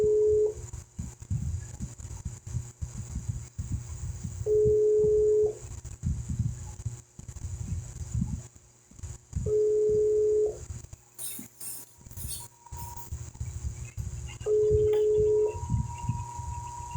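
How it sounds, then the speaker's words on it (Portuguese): Outgoing phone call ringing: a steady ringback tone sounds in four evenly spaced one-second bursts about five seconds apart, over a continuous low background rumble, with a few brief beeps partway through. "Então vamos novamente ligar para o irmão Raimundo."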